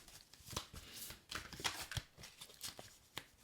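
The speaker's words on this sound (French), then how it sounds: "Comme ça, vous savez pourquoi je tape sur mes cartes." Fingers tapping and handling a deck of oracle cards, soft irregular taps and papery shuffles close by and quiet.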